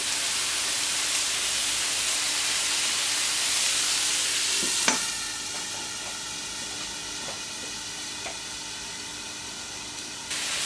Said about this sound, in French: Donc on va vérifier la cuisson de nos yakitori.